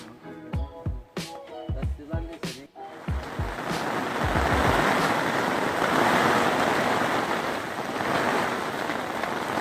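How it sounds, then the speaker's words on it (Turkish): Hail begins falling outdoors at a winter campsite, building into a dense, steady roar of pattering ice against surfaces after a few voices and sharp knocks at the start. "Dolu başladı arkadaşlar."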